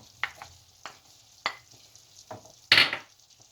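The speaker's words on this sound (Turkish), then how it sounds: "Ardından bir yemek kaşığı salçamızı ilave ediyoruz" A tablespoon of tomato paste goes into a hot pan of mince sauce for lasagna. A few sharp spoon clinks and scrapes sound against the pan over a faint sizzle, ending in a louder stirring burst.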